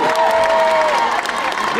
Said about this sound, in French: Vous pouvez applaudir tous ces jeunes.